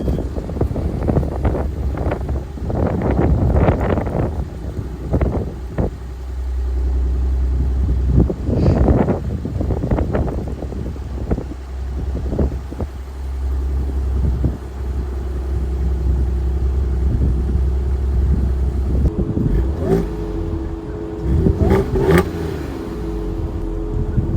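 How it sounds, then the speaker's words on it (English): An Audi S4 engine cold-starts and idles with a loud, low rumble and a few short rev bursts, while wind buffets the microphone throughout; no one speaks. "I got you a little cold start"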